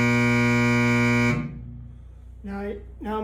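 A loud, steady electrical buzzer on a 480-volt motor starter at a rock plant drones for over a second, then cuts off abruptly, followed by someone talking briefly.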